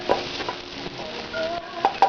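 Onions sweating in a pan give a steady low sizzle, with a few sharp utensil clinks and stirring taps near the start and end, close by and without speech.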